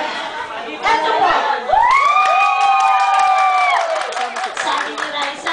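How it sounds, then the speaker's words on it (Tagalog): A crowd of students claps and shouts together in a classroom, loud and close, with cheering cries rising over the applause and mixed chatter throughout. "Sabi ni Raisa, palakpakan na may kasamang sigaw"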